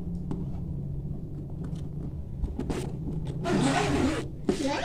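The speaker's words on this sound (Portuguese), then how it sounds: "Deixa eu fechar aqui o zíper que eu abri tudo" A zipper is pulled closed on a child's wheeled school backpack, a brief rasping burst near the end over a low background rumble.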